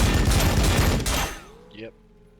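Heavy gunfire rages in a Warhammer 40,000: Battlesector battle between T'au and Blood Angels forces, a loud, dense fusillade of rapid shots that thins out after about a second and a half, leaving faint echoes and a brief burst near the end.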